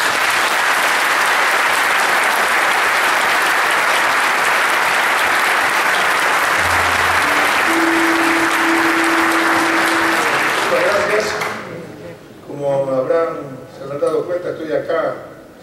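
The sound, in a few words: audience applause for jazz band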